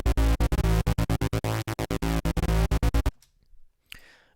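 A sidechained synth bass in FL Studio pumps in rapid rhythmic gating, loud buzzy pulses chopped by quick dips for about three seconds, then a faint short scratch in near silence.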